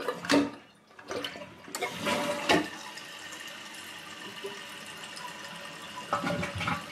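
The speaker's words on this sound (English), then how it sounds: "I'm going to pull up the flush handle" A dual flush toilet fitted with a water-saving conversion kit flushes nearby, giving a short clunk of the handle followed by a rushing gurgle of draining water and the steady hiss of the tank refilling.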